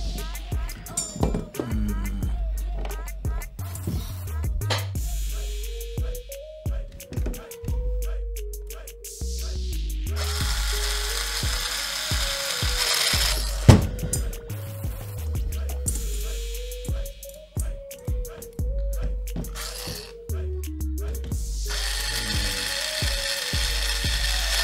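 A ratchet wrench tightens the bolt on the rear damper of a WPL B16 RC truck with repeated quick clicking strokes, close and steady in bursts, alongside clinks of metal parts being handled.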